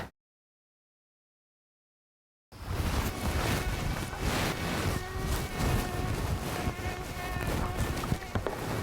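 Insects buzz in a video game after a brief stretch of total silence, a dense, continuous drone of whining wings with a windy, rushing background, fairly loud and unbroken.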